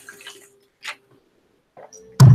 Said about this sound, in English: All right, we have a quick sip of water.